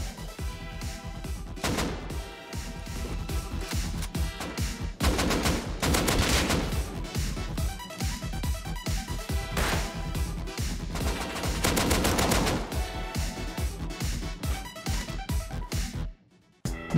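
Bursts of Thompson submachine gun fire crack out in the survival game Rust, loud and close, rapid automatic volleys repeating across the stretch with brief pauses between strings of shots.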